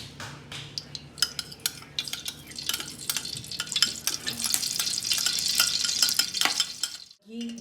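Ghee heats in a pot for beef pulao, giving off a steady frying sizzle that grows toward the end, mixed with close clinks and scrapes of a spoon stirring against the metal.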